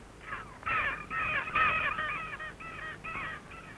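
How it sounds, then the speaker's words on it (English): A skua on Horseshoe Island, Antarctica, gives a series of harsh, repeated cawing cries, loud and near, in several bursts with no other voices. "This is the skua, a common bird on Horseshoe Island"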